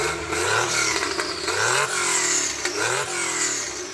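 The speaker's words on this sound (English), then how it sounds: "So Becky, do you mind revving it up so we can hear it?" A Porsche 911 Turbo with a straight-through aftermarket exhaust revs repeatedly, its engine note climbing and falling in several loud surges close by, with no one speaking.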